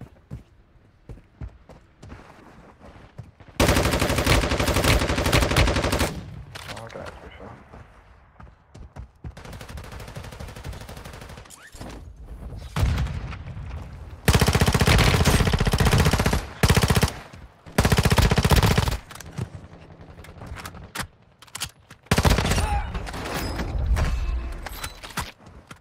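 Gunfire in the mobile shooter Warzone Mobile comes as several loud bursts of rapid automatic fire, split by quieter stretches of scattered shots and footsteps.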